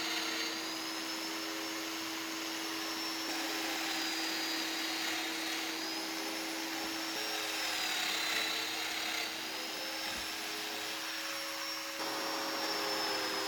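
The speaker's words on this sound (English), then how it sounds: "Now I can mark the domino locations onto the shelf and then route the mortises into the leg." Domino joiner cutting mortises into a wooden shelf leg, a steady loud whining motor hum with dust-extraction roar that holds evenly throughout, with slight pitch dips as the cutter plunges.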